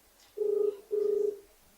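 A telephone ringback tone on a phone call, two steady buzzing tones in quick succession, close and clear with nothing else around them.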